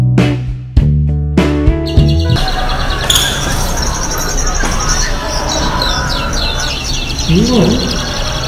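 A songbird chirps and sings in quick repeated notes against a busy, noisy background of crowd babble, with some loud tonal blasts at the start.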